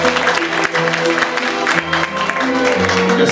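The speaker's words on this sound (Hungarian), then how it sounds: "Köszönjük a tapsot!" Applause from an audience at a school ball fills the room, a continuous moderately loud crowd clapping with music or murmur underneath.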